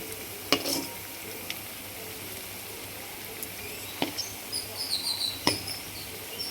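Semolina and coconut milk balls frying in a little oil over low heat, producing a soft, close sizzle with a few sharp clicks and taps of a utensil against the pan, without any voices.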